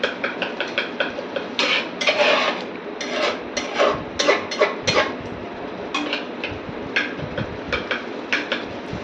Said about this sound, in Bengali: টক দইটা দিয়ে ভালো করে কিছুক্ষণ ধরে মশলাটা কষিয়ে নেব।